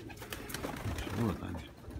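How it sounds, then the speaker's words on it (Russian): Pigeons coo outdoors, a brief, soft, low cooing call in the middle amid faint background noise. "Вот они, голуби."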